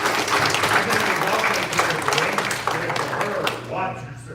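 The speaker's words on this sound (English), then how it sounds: "Yes, round of applause for" A crowd claps and cheers steadily, fairly loud, fading slightly toward the end, at a JordanCon 2021 convention panel.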